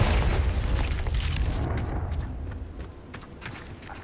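Confringo blasting spell explosion from the game Hogwarts Legacy, a loud, booming blast at the start that rolls on as a long rumbling tail, fading slightly while smaller pops and crackles continue.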